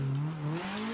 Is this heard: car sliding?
yes